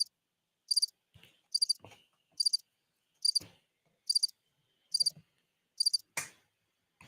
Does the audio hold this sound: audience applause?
no